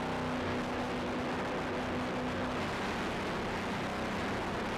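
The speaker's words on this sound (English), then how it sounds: "you can hear those Mercury power plants revving up" Mercury engines on a racing powerboat roar continuously as the boat climbs onto plane, a loud sustained drone that stays dense and unbroken throughout.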